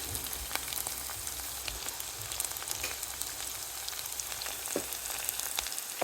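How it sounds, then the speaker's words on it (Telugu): Onions fry in hot oil with asafoetida in a pan while making upma, giving a steady, close crackling sizzle with dense pops throughout and no talk. "సో ఈ ఆనియన్ కొంచెం ఒక 30 seconds వేగింది కదా, ఇప్పుడు దీని తర్వాత దీని లోపల కొంచెం ఇంగువ, కొంచెం పసుపు వేసుకుందాం."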